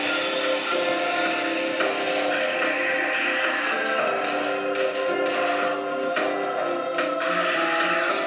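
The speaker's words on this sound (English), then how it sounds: "let's go ahead and try a game so you guys can see how this Dead Trigger 2 game" Dead Trigger 2 game audio playing on an iPad Air, a dense, continuous wash of music and effects with scattered sharp hits, steady and moderately loud.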